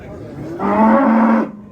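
At a livestock market, a cow gives one loud, drawn-out moo close by, lasting under a second, against quiet background noise.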